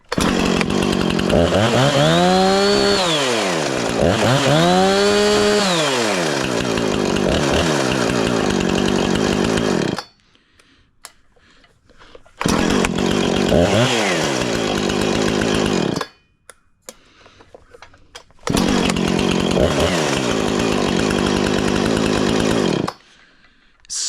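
Stihl MS290 Farm Boss chainsaw starting from cold, revving in loud rising and falling surges, then idling and running in separate bursts broken by short silences.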